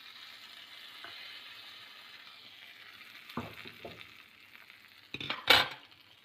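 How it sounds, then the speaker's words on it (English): Hot oil tempering with red chilies hits peanut chutney, a soft steady sizzle followed by a few clinks and a sharp burst of louder crackling frying near the end. "So I'm going to add this tempering into this chutney."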